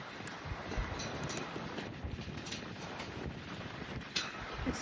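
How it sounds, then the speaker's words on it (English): Strong wind gusting outdoors on the Western Cape coast, a steady roar of broadband buffeting and microphone rumble with louder gusts, continuous and close throughout, with no talking. "you have to wear a jacket because it's so windy"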